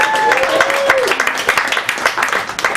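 Crowd applause at a stand-up comedy show, a dense ongoing wash of clapping from the audience that holds steady at moderate loudness for a few seconds, with a faint whistle-like tone early on.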